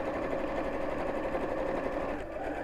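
A sewing machine stitches the base of a fabric bowling bag, running as a steady, close, fast mechanical whir without pause, with no talking.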